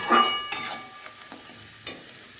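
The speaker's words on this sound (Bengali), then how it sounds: "যতক্ষণ যেন তেলটা ছাড়ছে কষাতেই থাকবো আমি" Spices with turmeric and salt sautéing in oil for chicken do pyaza, a brief close sizzle with a few sharp stirring scrapes, no voices.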